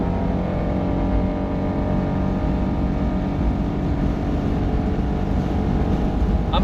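Honda S660 engine at full throttle on the Nürburgring, a steady loud droning roar heard from inside the car, sustained without a break.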